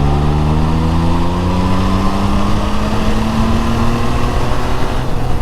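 A Triumph Trident 660 motorcycle engine pulls steadily under a throttle roll-on from about 2,000 rpm in sixth gear, a loud continuous drone with rising harmonic tones and wind rush throughout, with no talking.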